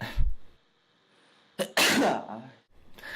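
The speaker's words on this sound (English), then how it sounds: "I'm about to sneeze." A single sharp sneeze bursts out after a brief breathy lead-in, close and loud, with a little throat noise before and after.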